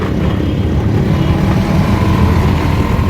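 Auto rickshaw engine droning steadily during a ride, a loud close rumbling motor hum that stays even from start to finish.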